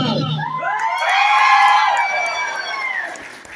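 An indoor crowd at a Safe Shop fresher training session shouts back in unison, the voices swelling loudly for a couple of seconds and then fading into scattered calls.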